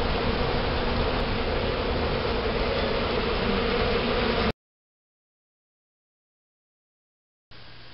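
Steady, close buzzing of honey bees that holds for several seconds, cuts out into silence, then resumes briefly at the end.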